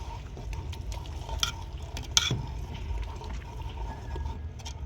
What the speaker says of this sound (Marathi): मस्त आता मसाला हलवून घेऊ आपण ही ग्रेव्हीतला